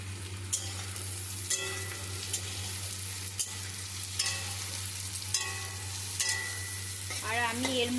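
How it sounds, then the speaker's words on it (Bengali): Cashews, carrots and beans stir-frying in a wok, a steady sizzle with periodic scraping strokes of a spatula roughly every second, close and clear with no talking. "ওই গাজর আর বিনসটা একটু ভাজা ভাজা মতো হয়ে গেলে তারপরে কাজু বাদামটা আমি দিয়ে দেবো"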